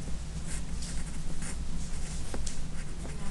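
A pen scratches across paper while a diagram of someone pulling a sled is drawn, giving a steady, close, continuous scribbling with a few brief louder strokes and no talking.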